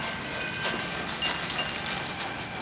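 Horse hooves clip-clop on the floor inside a stable, a steady, busy patter of close hoof steps that carries on without a break over a dense background hiss.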